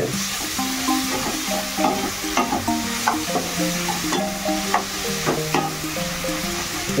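Masala spices with Kashmiri chili frying in a pan for an Odia moong dal dish, a steady close sizzle broken by repeated spoon scrapes and stirring knocks throughout, with no voices.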